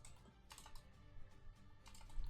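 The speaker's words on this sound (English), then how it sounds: "can I type please?" Typing on a computer keyboard: a short, faint burst of soft key clicks and taps at close range, with no talking.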